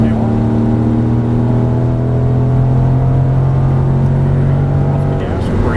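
A Dodge Challenger muscle car runs at full throttle on a track, its engine a loud, steady droning roar with a strong low hum, while a voice talks over it.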